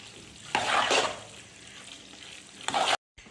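Chicken alfredo spaghetti stirred in a pan makes wet, squelching scrapes in two short bursts separated by a quieter simmer, ending abruptly.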